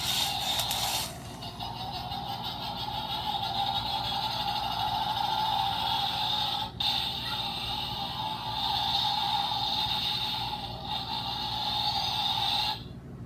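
A Power Rangers 2017 movie Power Morpher toy gives off its electronic morphing effect: a steady, tinny, high-pitched synthetic whine with buzzing layers that holds for several seconds and then cuts off, close and without talk.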